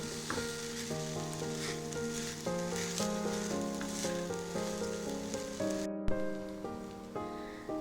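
Mandi rice sizzles softly in a pan as it is stirred, the crackle sitting beneath louder background music with sustained melodic tones.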